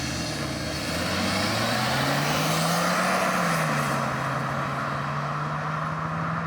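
A 2023 Suzuki S-Cross with all-wheel drive launches from a standstill, its engine note holding a steady drone, rising briefly and then settling as the car pulls away, loud and sustained with road noise and no talking.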